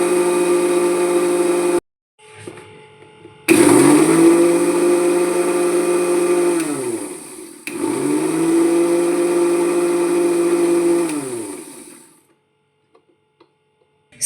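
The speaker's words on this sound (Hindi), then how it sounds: "अब मैं इसे मिक्सर ग्राइंडर में अच्छी तरह से जितना हो पेस्ट बना लूँगी" A kitchen mixer grinder blends mango into a fine paste, its motor whining loudly and steadily in two long runs, each winding down as it is switched off. Rustling and small knocks fill the pause between runs.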